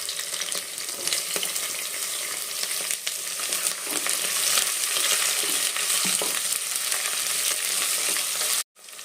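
Oil deep frying in a village kitchen before onions go in sizzles in a continuous, loud hiss that runs unbroken for several seconds before stopping abruptly.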